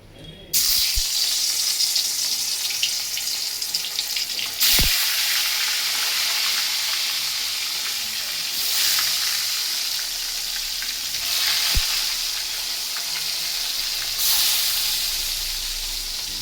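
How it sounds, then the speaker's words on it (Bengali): Fish rubbed with salt and turmeric fries in hot oil in a wok, a steady close sizzle running throughout with a few sharp clicks and occasional stirring. "সেই জন্য আমি এপাশে আগে মাছ ভাজাটা ভেজে নিলাম"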